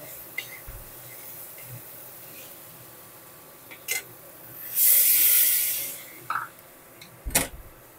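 Water splashes into a hot pan of figs and potatoes fried in spice masala, setting off a loud, sharp hiss burst that fades after about a second, amid scattered light clicks and knocks.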